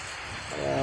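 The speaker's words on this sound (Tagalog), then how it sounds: "tapos umuulan naman" Rain falls steadily at an outdoor shooting range, a soft, even hiss of drops that swells slightly louder toward the end, with no one talking.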